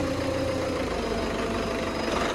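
A motor cultivator engine runs steadily nearby, a loud continuous idling rumble with an even, unbroken drone and no voices.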